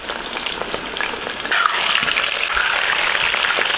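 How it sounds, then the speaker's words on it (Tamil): Chicken deep-frying in hot groundnut oil in a kadai for village-style cooking, a steady, close bubbling sizzle that grows a little louder partway through, with no talking. "எண்ணெய் சூடானதும் சிக்கனை எடுத்து எண்ணெயில போட்டு பொறிச்சு எடுத்துக்கலாம்."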